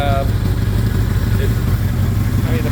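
A 1982 Suzuki GS 1100 motorcycle with a 43-year-old header exhaust pipe that has a small hole, its engine running at a steady close-up idle with a rhythmic low rumble while someone talks over it.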